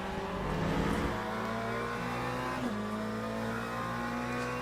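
The Peugeot hypercar in the Le Mans Ultimate racing sim holds a steady, loud engine drone with slight shifts in pitch as it accelerates.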